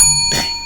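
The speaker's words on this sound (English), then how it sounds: "the bell is there for when Brennan makes up words" A single bright bell ding rings out and lingers with a sustained ringing tone, short and close.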